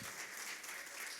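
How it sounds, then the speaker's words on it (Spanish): Congregation clapping during a Spanish-language church sermon, a short, fairly faint burst of steady applause with no voices over it. "¿Por qué no le damos un fuerte aplauso al Señor?"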